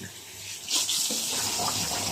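Water runs steadily from a tap into a container while servicing a Miele W1 Classic Eco washing machine, a continuous hissing splash that swells slightly partway through, with no talking.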